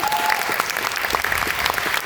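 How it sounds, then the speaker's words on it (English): An audience at a live jazz performance claps in warm applause, a dense burst of many hands that stays steady and fairly close for a couple of seconds. "So, warm round of applause, please."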